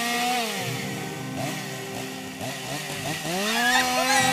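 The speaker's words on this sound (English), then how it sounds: "What is he doing with that chainsaw?" A chainsaw engine runs loud and close, its whining drone sliding up and down in pitch as it revs and eases off, steady throughout with no talk.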